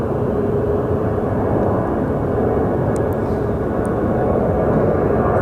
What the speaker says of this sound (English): Air Canada should be departing very soon.